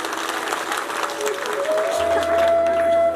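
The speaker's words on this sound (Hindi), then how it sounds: "जरा जोरदार ताली" Listeners at a Devi Bhagwat katha break into loud, sustained applause, many hands clapping together as a hum and tone rise in the background near the end.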